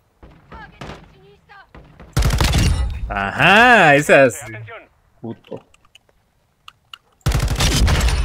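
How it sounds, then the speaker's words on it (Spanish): Bursts of rapid gunfire in Call of Duty: Modern Warfare II crackle loudly in several volleys, with short spoken exclamations and a rising vocal sound between them. "Ahí se hacen los tiros lejanos."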